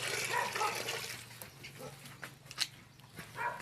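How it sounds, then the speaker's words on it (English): Dogs on an organic farm in Africa bark somewhere off at a distance, faint and scattered, over a background of trickling water. "I don't know why the dogs are barking."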